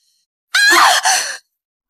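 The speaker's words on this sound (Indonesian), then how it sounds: "Ada yang menjerit." A single person lets out a sharp, loud scream in two quick bursts, the second breaking off shortly after the first, set against silence on either side.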